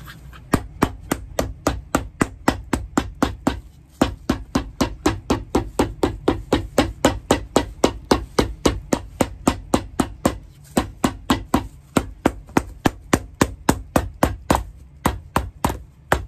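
Steady, rapid hammer blows on a shoe sole, dozens of sharp close strikes in a regular rhythm with a few brief pauses.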